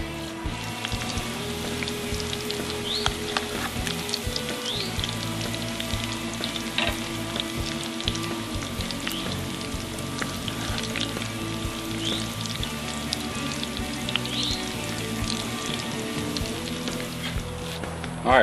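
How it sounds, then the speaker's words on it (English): Crab cake patties fry in hot grease with a dense, continuous crackle and sizzle, with sharp little pops scattered over a steady hiss, close and on its own without speech. "I think our grease is good and hot here, ready to go. Let's put these crab patties in here."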